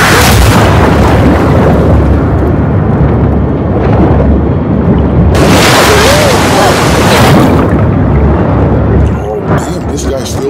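Loud booming shotgun blasts in the video game The Last Of Us Part 2, two heavy bursts with a rumbling tail over dense game noise, with a player talking excitedly in between.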